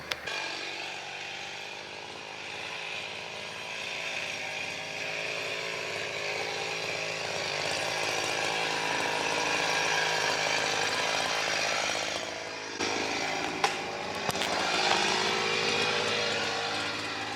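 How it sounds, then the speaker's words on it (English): A chainsaw cutting up old trees drones steadily at a distance in rural Sweden, its roar swelling and easing as it works, with a few sharper knocks near the end. "started on the cutting up old trees with a chainsaw"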